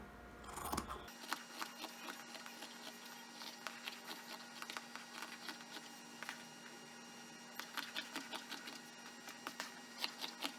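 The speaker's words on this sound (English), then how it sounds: "I'll go ahead and cut both of those out" Scissors snip through a wool sweater in a quick series of close, crisp cuts with irregular spacing over a faint steady hum, no talking.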